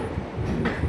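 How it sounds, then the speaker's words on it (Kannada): A Bengaluru to Mysore passenger train runs on the rails, giving a steady close rumble of wheels and carriages with a brief sharper metallic burst partway through. "ಟ್ರೈನ್ ಇವಾಗ ನಾಯಂಡಲ್ಲಿ ಸ್ಕಿಪ್ ಮಾಡ್ತಾಯಿದೆ."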